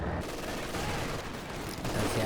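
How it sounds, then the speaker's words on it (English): Rifle grenades and gunfire in a Company of Heroes match, dense rapid rifle and machine-gun bursts with thudding explosions, steady and loud throughout, under a fast-talking commentator's voice. "we've got rifle nades going off all over the place"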